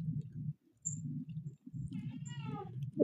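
A pet cat meows once, a short rising call near the end, over a low steady background rumble.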